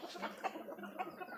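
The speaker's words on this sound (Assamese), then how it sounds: "এইটো কণী দিয়া মুৰ্গীৰ কাৰণে ফাৰ্ম ৰাখিছোঁ।" Egg-laying hens on a poultry farm give soft, scattered clucks, a few short calls rising from a low background murmur at moderate distance.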